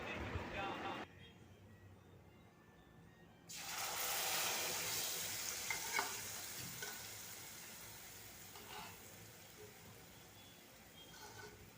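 Malai kofta mixture with salt cooking in a pan, a steady sizzle and stirring that rises louder after a quiet start, with talk heard over it.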